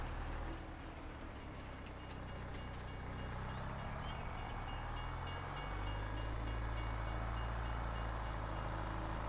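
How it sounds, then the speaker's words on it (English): A train in the video game Farming Simulator 22 rumbles past with a steady mechanical roar and rhythmic clatter, its low drone deepening partway through; no talking. "Ah, crap. Train."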